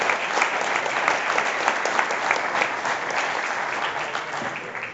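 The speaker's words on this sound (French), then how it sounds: "On applaudit Antoine Le Prodhomme." Dense, sustained applause from a crowd at a cycling race prize ceremony in Plumelin, honouring the rider Antoine Le Prodhomme; even and loud throughout, with no speech over it.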